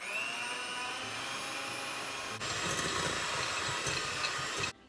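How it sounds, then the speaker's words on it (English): Half a cup of room-temperature butter being whisked for a rum cake, a loud steady motor whine close by that shifts to a rougher churning partway through before cutting off abruptly. "So we're just gonna whisk this."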